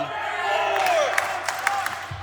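Wrestling crowd at a WFA championship match inside a university venue, cheering and whooping loudly and steadily with sharp shouts rising above the roar.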